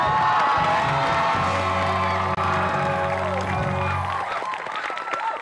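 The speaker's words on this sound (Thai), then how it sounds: "เสียงกรี๊ดดังๆสำหรับ ซานินิพาพรอย่างนี้ตลอดไป" A loud crowd screams and cheers with high-pitched shrieks and whoops, continuous for several seconds over a sustained musical backdrop.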